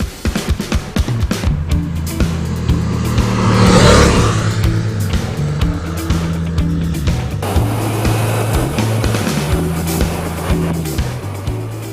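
A Yamaha MT-07 Tracer 700 motorcycle rides along a mountain road, its engine note loud and steady with shifting revs and a rising surge midway, wind rushing throughout, and no talking.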